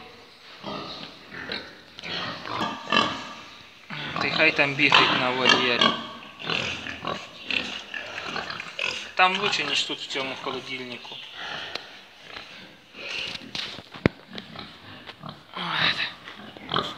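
Pigs grunting and snuffling close by on a pig farm, mixed with people talking throughout in a noisy pen.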